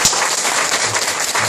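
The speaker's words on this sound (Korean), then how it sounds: "잠깐 이제 일어나시면 뜨겁게 박수로 환영해 주시기 바랍니다" A church congregation claps warmly to welcome a guest, a dense and loud burst of applause filling the short moment.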